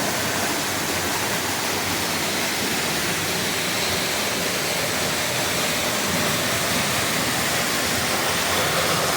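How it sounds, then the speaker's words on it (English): Blue Hole Falls pours into a clear, shallow pool in a constant, dense roar of falling water, loud and close and unbroken throughout, with no voices over it. "When I get closer to this waterfall."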